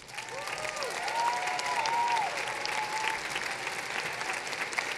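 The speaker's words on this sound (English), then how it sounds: "as we give her a round of applause" A high school graduation crowd applauds a teacher in a large hall, a broad, steady wash of clapping from many hands, with faint voices and whoops mixed in.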